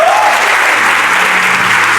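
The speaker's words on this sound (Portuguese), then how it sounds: "Você pode aplaudir o Senhor pela vida dele?" Steady, dense applause from a church congregation fills the whole stretch, loud and continuous with a faint voice briefly audible near the start.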